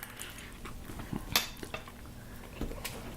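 A spoon clinks against a bowl of spicy ramen, a few light scattered taps and scrapes with one sharper ring, close and fairly quiet.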